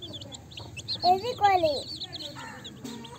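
Chickens clucking close by, a few short rising and falling clucks in quick succession, with people talking briefly over them.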